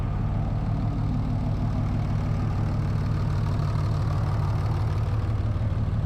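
A 2004 Cummins diesel engine, freshly fitted with an AirDog fuel system, idles with a steady low rumble that holds constant throughout.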